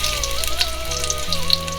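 Chopped onions sizzle in hot oil for khichuri, a soft, steady crackle with a faint electrical hum running underneath.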